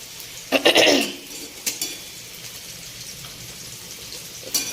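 Fish frying in oil in a small wok on a gas stove, a steady sizzling hiss with a burst of louder crackle near the start and occasional utensil clinks, no talking.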